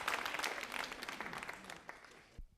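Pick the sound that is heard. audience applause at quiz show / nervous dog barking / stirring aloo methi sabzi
audience applause at quiz show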